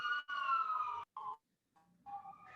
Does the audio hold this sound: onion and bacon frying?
no